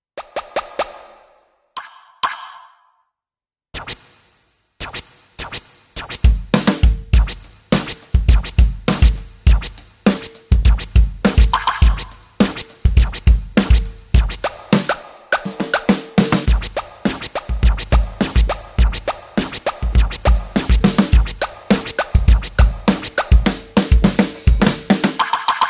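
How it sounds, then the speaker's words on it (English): Percussion hits layered with triggered samples from WTF percussion triggers: a few sparse taps, then a dense run of sharp, punchy strikes with a steady groove, loud and close without voices. "You can use them to add a layered sound on your percussion."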